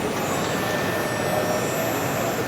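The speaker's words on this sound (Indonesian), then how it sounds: "kita coba lihat mesin potong bahan," An automatic fabric pattern-cutting machine in a garment workshop runs with a steady, dense mechanical whir and hiss. The noise holds at an even level throughout, with no voices.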